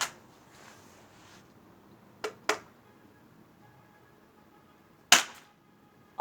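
Sharp, close gunshots fired at a target crack out one at a time, three or four distinct bangs spread apart by quiet pauses.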